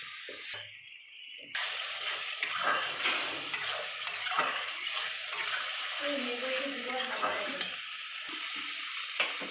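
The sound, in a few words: tomato puree frying in ghee in a pan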